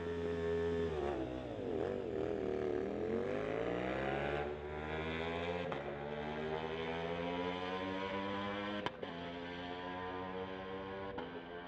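A 2018 Ducati motorcycle at a street-legal drag strip drones with a steady, rising and falling engine note that sweeps in pitch as it accelerates, heard fairly faint and distant throughout.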